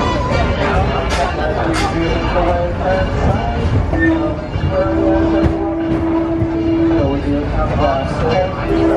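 The Disneyland Railroad train sits at New Orleans Square Station with a steady mechanical rumble and hiss, while a recorded announcement plays over it.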